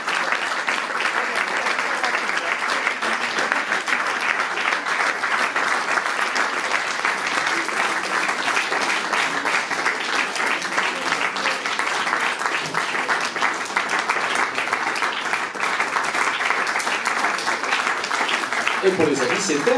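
Loud, continuous audience applause at an unconventional fashion show at La Cloche in Dijon, greeting a designer's collection as it comes on, sustained for the whole stretch with some crowd noise mixed in.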